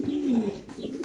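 A single pigeon coos close by, one short throaty call with a low rolling warble, heard clearly with nothing else around it.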